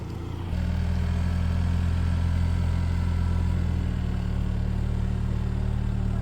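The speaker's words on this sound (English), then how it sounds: "Caleb's going to attempt this first little obstacle here in the new Land Cruiser" A 2024 Toyota Land Cruiser works up a steep, loose, washed-out off-road obstacle, its engine rising into a steady, loud low drone with faint clatter, close by and without talking.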